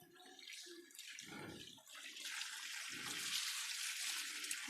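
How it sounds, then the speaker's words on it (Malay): Water poured over a washing machine tub being rinsed during cleaning, a steady broadband rush of splashing and flowing that builds and continues throughout, with a few low thumps or gurgles underneath. "Kita akan jirus air sekali lagi untuk kita tengok ada tak kotoran-kotoran yang masih berbaki."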